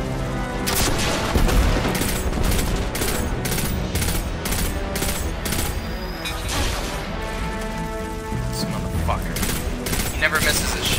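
Video game gunfire in Destiny 2, dense bursts of rapid automatic shots and sharp impacts crowding the whole stretch, loud and near, with a voice talking over parts of it.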